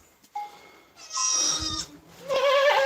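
Goats on a farm bleat in a few loud, drawn-out calls, one after another at close range, with no talking during the bleats.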